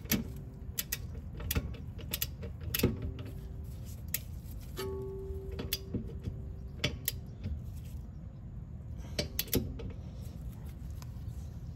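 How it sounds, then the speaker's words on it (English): A small torque wrench tightening brake caliper bolts during a slotted rotor and pad install on a 2018–2021 Subaru WRX, giving scattered sharp metallic ratchet clicks and tool knocks at close range, with brief faint squeaks and no talking. "Okay, got my smaller torque wrench."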